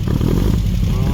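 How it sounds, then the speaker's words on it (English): Engine of a 1969 Volkswagen Baja Bug hot rod running loud and close with a rough, irregular clattering beat that suggests backfiring, with no talk over it. "You got some backfirings going on there"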